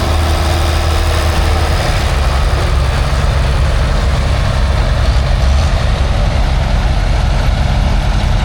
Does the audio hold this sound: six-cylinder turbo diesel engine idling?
yes